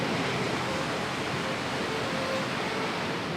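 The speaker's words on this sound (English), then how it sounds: "looks like the end of the trail is here at another waterfall" Steady broadband roar of water from a waterfall at the end of a trail in the Grand Canyon, a continuous even rush with no pauses, fairly loud and heard alone.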